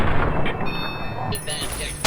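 Gunshots in Fallout New Vegas, a loud, dense burst of game gunfire with a sharp new blast about halfway through and ringing tones behind it.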